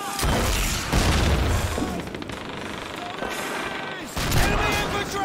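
Gunfire in Call of Duty 2 on veteran difficulty, a dense barrage of rifle and machine-gun bursts with booming impacts, loud and close, interrupted by brief shouted voices.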